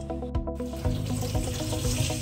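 Poha flakes being washed in water for kanda poha splash and slosh in a vessel, a close, short run of running and stirring water with a few sharper splashes near the start.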